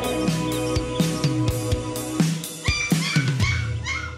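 Newfoundland dogs at a breeder's home in the Sarthe, a mix of sharp repeated barks and high whimpers and yips from several dogs, close and loud in an irregular rhythm.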